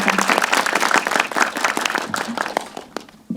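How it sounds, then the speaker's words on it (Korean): An audience claps in sustained, dense applause at a Korean film event, loud and close before thinning out toward the end. "여러분 큰 박수 부탁드립니다"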